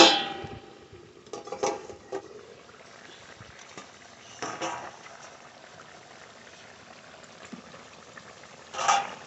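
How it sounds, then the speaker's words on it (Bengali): A lid lifted off a pot of simmering fish curry made with large lote fish, giving a clatter at the start and another toward the end, with bubbling and a soft hiss between. "দশ মিনিট মতন জাল দিয়ে নিয়েছি এবার ঢাকনা তুলে দেখবো কেমন হয়েছে"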